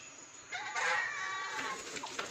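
Village hen set on eggs clucking close by, a short run of throaty, wavering calls of moderate loudness, with no voices.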